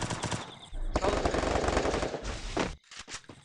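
Rapid bursts of automatic gunfire from a video game, loud and repeated, with a short pause near the end followed by a few sharp single shots.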